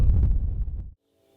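Strong gusts of wind batter the microphone outdoors during a spring turkey hunt, a loud, low, rumbling roar for about a second before it cuts to near silence.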